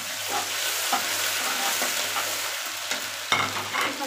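Garlic and ginger fry with lightly browned onions in a pan, a constant close sizzle broken by scraping stirs and a few sharper clatters of the spoon, with nobody talking.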